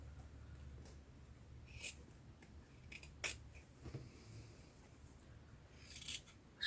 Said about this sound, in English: I should have my big scissors out, you know, or my fabric scissors, one of the two.